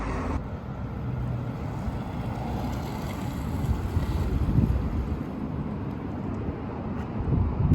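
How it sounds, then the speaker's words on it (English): A new Tesla Model S Plaid electric car driving its first few feet, heard as a steady, even rush of road and wind noise with no engine note and no voices. "first few feet of driving the new Plaid"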